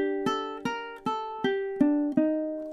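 Plucked ukulele notes ring out one at a time in a steady, unhurried melody, each note decaying before the next, played solo and close.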